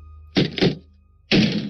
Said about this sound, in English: There was a bang at the front door.